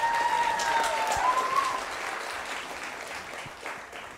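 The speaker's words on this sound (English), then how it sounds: "Let's give them a round of applause." An audience applauds grade 6 and 7 musicians at a school year-end concert in Fort Nelson, a dense, even roar of clapping that holds steady and slowly thins out.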